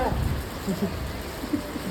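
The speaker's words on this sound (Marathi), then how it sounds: "काल पण पाऊस आज पण पाऊस" Steady unseasonal rain patters on surfaces, a soft continuous wash with faint voices murmuring underneath.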